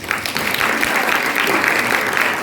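Audience applause for high school students after their stage drama of Bumi Manusia, a steady burst of many hands clapping close by throughout, with no voices over it.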